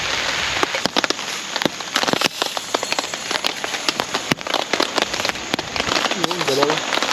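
Rain patters on a campsite during moto camping near Mayon in Albay in stormy weather, with scattered loud drops striking close by over a constant wash, and a voice speaks faintly near the end.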